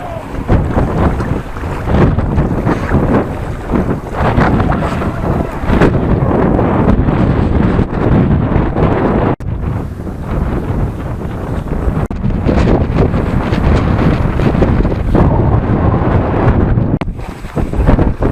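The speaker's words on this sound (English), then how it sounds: "it's a windy day on Fleetwood front." Strong wind on the seafront at Fleetwood roars and buffets the microphone continuously, a loud, dense rumble with brief dips in force and no speech.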